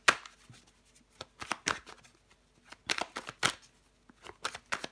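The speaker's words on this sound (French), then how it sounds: "Je vais recouvrir les cartes." Tarot cards being handled and laid over, giving a run of crisp papery flicks and slides in uneven bursts, close and fairly quiet, with no talk.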